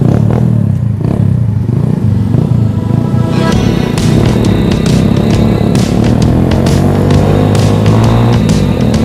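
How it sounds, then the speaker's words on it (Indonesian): A custom Benelli Motobi 152 motorcycle engine runs loudly and close, rumbling and revving as the bike rides along with some rattling clatter. "kali ini gue mau test ride motor Benelli Motobi 152 nih cuy."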